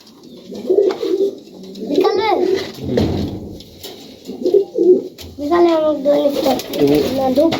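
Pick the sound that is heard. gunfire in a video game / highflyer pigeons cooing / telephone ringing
highflyer pigeons cooing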